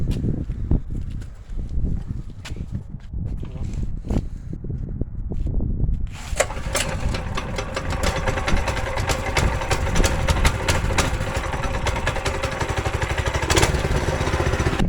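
A motorcycle engine with a newly installed tachometer cranks with uneven knocks and clatter, then catches about halfway through and settles into a loud, steady, rapid idle.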